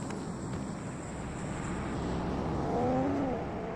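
A car driving in the mobile game PUBG Mobile, a steady low engine drone that holds at an even level throughout, with a faint whine rising near the end.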